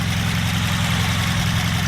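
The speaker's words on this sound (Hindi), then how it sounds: "ये नॉर्मल बलेनो इंजन लग रहा है" A modified Maruti Baleno with a swapped engine and aftermarket headers idles with the bonnet open, a loud, steady low rumble with an even pulsing throb, close by and without talking.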